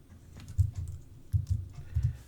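Quiet, close typing on a computer keyboard: a few short clusters of soft key clicks with small pauses between them.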